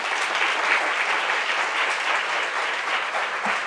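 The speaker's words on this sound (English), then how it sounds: "give you a big round of applause to our participants" Conference audience applause, a dense, steady wash of clapping hands that stays even throughout with no voices on top.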